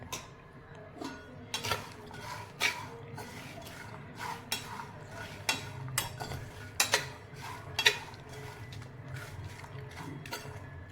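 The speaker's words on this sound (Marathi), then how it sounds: "लहान गॅसवर मी आता हे पण भाजून घेणार आहे" Peanuts being dry-roasted and stirred in a pan over a low gas flame, with irregular scraping clinks and rattles of nuts against the pan over a soft steady background.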